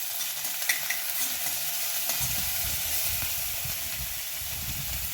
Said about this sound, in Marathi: हिरवी मिरची, लसूण, अद्रक बारीक करून घेतलेला आहे, हे आपण यामध्ये घालून घेणार आहोत. छान परतून घ्यायचं आहे